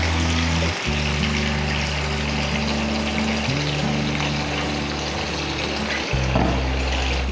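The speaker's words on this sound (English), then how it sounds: "We just want to make sure there's enough water to cover them." Water runs steadily from a tap into a bowl holding grapes and vinegar for soaking, a continuous close gush with brief breaks as the flow stops and restarts, and no talking.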